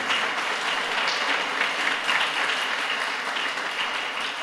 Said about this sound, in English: Let's give My Ling Sing Throne a strong round of applause.